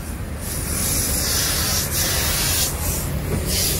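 A steady pressurized spray hisses continuously for a few seconds, close by, aimed at an oil filter in a bus engine bay, with short bursts of intensity over a low rumble.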